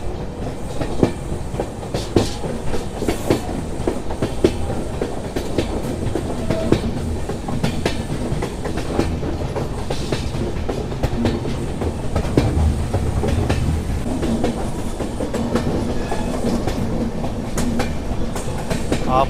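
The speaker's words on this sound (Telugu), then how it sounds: "మన ట్రైన్ అది కూడా చూపిస్తాను చూడండి" Sairang to Kolkata express train running on the Mizoram line, a steady rumbling roar with continuous clickety-clack of wheels over rail joints throughout, no talk.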